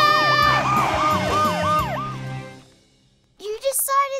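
Wailing cartoon sirens for a fire engine, ambulance and police car sweep up and down in a repeating loud cycle over a rumbling motor, then fade to silence before a voice speaks.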